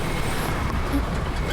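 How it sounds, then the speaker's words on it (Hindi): Road vehicle noise fills the scene during a chase, a steady low engine and traffic rumble running throughout, fairly loud and continuous with some voice-like sound underneath. "कोई गाड़ी हमारा पीछा कर रही है शायद।"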